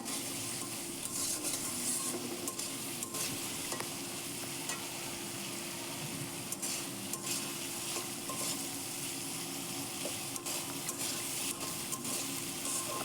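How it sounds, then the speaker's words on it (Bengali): A spice paste is stirred and fried in a pan for a tengra fish and taro dish, making a soft, even sizzle under repeated scraping strokes, steady and close with no talking. "মশলাটা দেওয়ার পর এখন ভালোভাবে আমি নেড়ে চেড়ে কষিয়ে নেবো"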